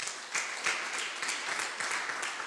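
Church congregation applauding at a thanksgiving service in Metz, a steady, dense crowd clapping that holds evenly throughout.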